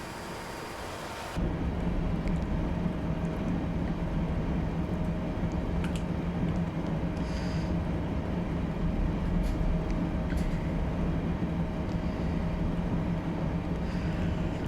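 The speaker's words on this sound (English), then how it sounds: "Night train in the night rain." A train runs at night during a thunderstorm with rain, a steady rumbling wash of noise that starts abruptly and continues with faint sharp crackles over it, no voices.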